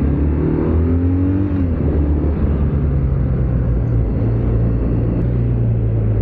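BMW R12 nineT air-cooled motorcycle engine running, a loud, steady low rumble with a brief rising rev near the start, continuous throughout and close up.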